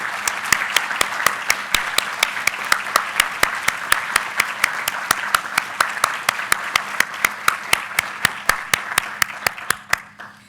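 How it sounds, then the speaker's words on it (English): A room full of faculty senate members applauds a retiring colleague, steady dense clapping sustained for about ten seconds before tapering off at the end, with no talking over it. "I want to just take a moment and ask you to join me in a round of applause recognizing everything he's done for us"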